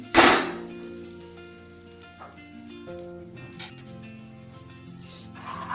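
Two spoons of butter hit a hot pan for butter garlic chicken gravy, giving a loud, brief sizzling burst that fades into a faint, steady hiss.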